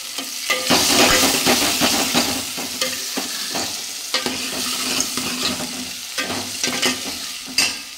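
Chopped onions and tomatoes frying in a pan with salt, a steady loud sizzle broken by repeated scraping stir strokes throughout, no voices.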